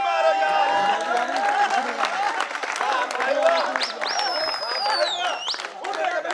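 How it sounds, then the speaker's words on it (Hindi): An audience at a mushaira poetry recital breaks into clapping that mixes with crowd chatter and voices, the applause loud and sustained, with a sliding whistle-like tone rising above it near the end. "ताली मारो यार"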